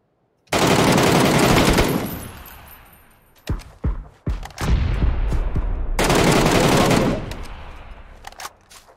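Loud automatic gunfire from a PUBG match, long sustained bursts near the start and again toward the end, separated by a few sharp single shots and quieter gaps.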